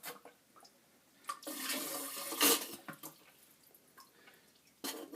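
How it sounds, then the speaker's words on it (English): Water being drained from a toilet tank with a small device during a Fluidmaster Duoflush conversion install, faint trickles and drips with a short louder gurgling rush in the middle, recorded close and quiet. "I can use this little device to get the rest of the water out."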